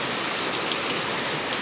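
Heavy rain pours down in a steady, dense hiss that fills the whole space, with no pauses or voices.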